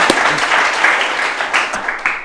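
Applause at an eighth grade school speech event greets a student's mom and dad: a brief, full burst of crowd clapping with a few distinct close claps, fading toward the end.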